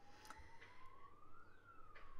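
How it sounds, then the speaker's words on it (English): Emergency vehicle siren wailing outdoors, a single rising and falling tone, faint and distant under a low background hum, with no voices. "There's a whole ton of sirens going on out in the background"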